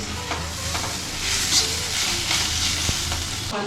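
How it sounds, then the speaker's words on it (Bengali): Radish frying in oil tempered with dried red chilli and nigella seeds, a steady close sizzle broken by a few scraping stirs and a sharp utensil knock, with no talking. "তেলের মধ্যে একটু শুকনো লঙ্কা আর একটু কালো জিরে ফোড়ন দিয়ে তারপরে মূলোটা মূলোটা ভাজা"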